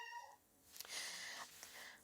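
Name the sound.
cat meowing in the background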